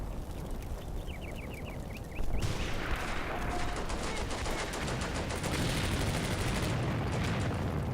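Machine gun fire in the WWII video game Combat Mission: Beyond Overlord, set at Ramelle: dense, continuous rapid bursts fill the scene, with quieter crackling shots and a high chirp before the gunfire swells loud and sustained.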